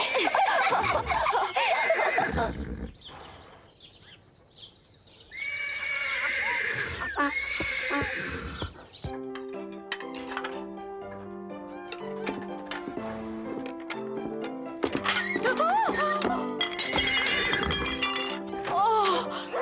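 A horse whinnies loudly and close in a cartoon kitchen scene with a donkey, followed by crashing, clattering shatters and a stretch of bouncy music.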